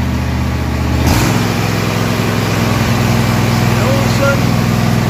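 A small engine with choke and throttle, the kind fitted with blades, drones steadily and loudly with a pitch shift around the first second, while someone talks over it throughout.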